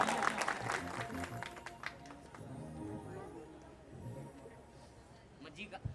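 A crowd claps at a 2024 desi bhajan program in Bhaylu Sundarpura to welcome a guest. The clapping is densest and loudest at the start, then thins to scattered claps over a murmur of voices.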